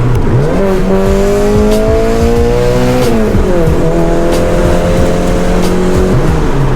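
A Nissan Sentra SE-R engine revs hard and loud with a raw, throaty open exhaust, pitch climbing, dropping, then climbing again in repeated surges.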